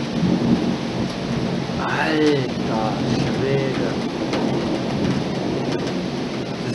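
Thunder rumbles through a heavy rainstorm in Dresden, a low continuous roll over steady rain hiss with birds calling, while someone speaks briefly nearby.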